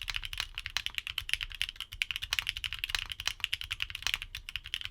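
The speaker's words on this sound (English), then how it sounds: "expect a bright and clacky sound signature with these switches. Here's a sound test for these Shanghais." Fast typing on a mechanical keyboard with Shanghai switches gives a steady stream of bright, clacky keystrokes, close and crisp, heard alone.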